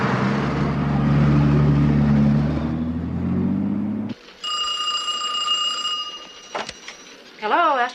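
A telephone rings at a command center, a bright, steady electronic tone lasting nearly two seconds after a stretch of rumbling engine noise, with a brief clatter and someone speaking at the end.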